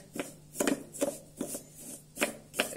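A homemade body scrub of coconut shavings, sugar and oil being stirred in a bowl, giving short gritty scraping strokes in an uneven rhythm, close and fairly quiet, with no voices.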